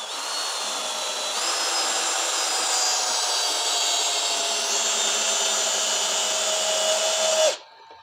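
Makita HP488D cordless drill spinning in drilling mode, a loud steady motor whine that rises slightly in pitch partway through, then cuts off abruptly near the end.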